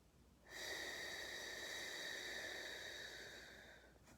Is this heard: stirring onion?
no